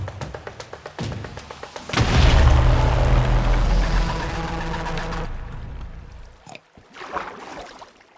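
A Minecraft explosion in a hardcore sculk apocalypse world hits as a loud, heavy boom that rumbles for several seconds after a run of quick rhythmic taps, then fades into scattered softer thuds.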